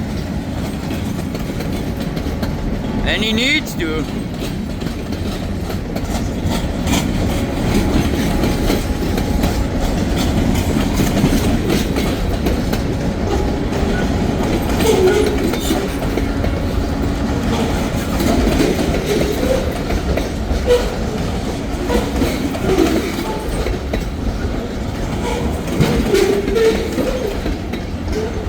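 A freight train runs at full throttle across a county road crossing, a loud sustained roar with rhythmic wheel clatter throughout and a brief voice near the start.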